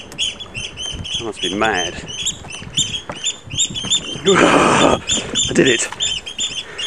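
Birds disturbed inside a Palmerston fort, a coastal Victorian sea fort, give off fluttering and chirping calls that echo in the enclosed space, mixed with someone talking close by.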